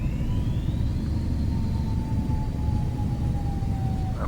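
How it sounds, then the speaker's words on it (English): Learjet 35A jet engines spooling up loudly as thrust reversers deploy on landing in Microsoft Flight Simulator 2020, a steady broad roar with a rising whine held throughout. "Reversers on."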